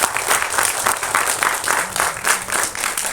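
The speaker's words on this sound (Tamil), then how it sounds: "தயாரிப்பாளர்கள் திருமதி பவுனம்மாள் பா இளஞ்செழியன் அவங்கள ஒரு தடவை பலமாக கைதட்டி பாராட்டுவார்கள்" An audience claps steadily and loudly, filling the room with dense applause, at a film launch pooja ceremony held at Bharani Studio in Saligramam. No voices are heard over the clapping.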